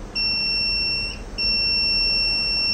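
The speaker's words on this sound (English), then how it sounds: "if any like metal detected, then you'll get the buzzer indication from this metal sensor" A robot's metal detector sensor sounds a shrill, steady electronic buzzer tone, briefly cut off by a short gap and then resuming, loud and close with faint background noise.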